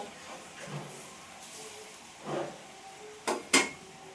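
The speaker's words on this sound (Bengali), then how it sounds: "এইবার আমার চিংড়ি মাছ ভাপার এই ঢাকনাটা, কড়াই ঢাকনাটা আমি খুলে দেখব।" A kadai lid lifted off steaming prawns, two sharp clanking knocks of metal near the end, preceded by soft hissing and faint rustles in a quiet kitchen.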